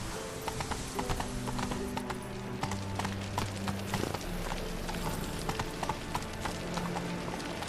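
A horse gallops in The Witcher 3 video game with a steady, rapid clip-clop of hooves, mixed with game sound effects and a low musical drone.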